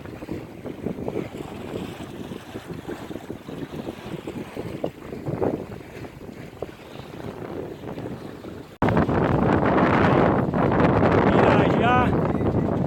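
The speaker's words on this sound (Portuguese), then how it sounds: "Olha o ventão." Strong wind roars across a sailboat on a lake in Brasília, a constant buffeting rush with water noise that suddenly jumps louder and harsher partway through as gusts hit the microphone.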